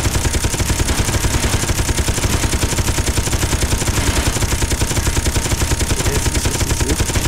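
In the video game Space Engineers, rapid machine-gun fire hammers a ship in a steady, unbroken stream of loud, close, rattling shots. It runs throughout at constant intensity with no voices.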